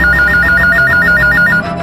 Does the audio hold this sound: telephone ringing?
yes